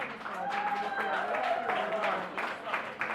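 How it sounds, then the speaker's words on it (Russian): An audience at a Ukrainian festival stage event applauds in a steady bright patter, while a voice talks over the clapping throughout. "Ваши аплодисменты"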